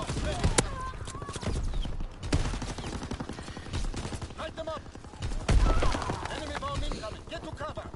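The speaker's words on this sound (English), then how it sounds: "I'm being shot at." Gunfire in a video game crackles in repeated bursts of sharp shots and volleys at moderate level, with a voice talking over it at times.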